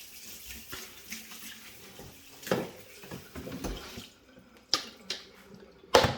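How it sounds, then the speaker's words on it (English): Running tap water splashes over a cutting board being rinsed after filleting yellowtail fish, a close steady gush that cuts off midway, followed by a few sharp knocks and clatters. "Give your board a nice rinse."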